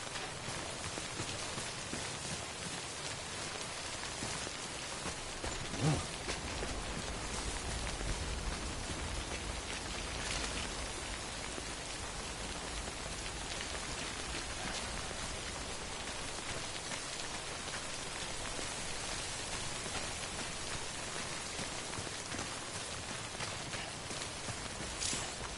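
Steady, dense rain falls throughout in the video game Death Stranding, an even wash of drops with no pauses.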